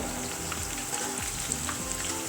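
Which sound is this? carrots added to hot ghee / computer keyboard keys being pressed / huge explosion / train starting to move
carrots added to hot ghee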